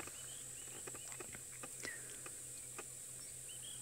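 Cicadas drone in a steady, shrill buzz that carries through the whole stretch on a safari outing, with sparse clicks and faint bird chirps scattered over the top.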